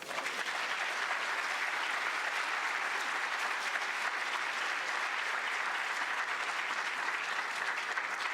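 Sustained audience applause after a talk at a conference on African-American history and culture, a dense, steady wash of many hands clapping at constant loudness throughout, with no voices over it.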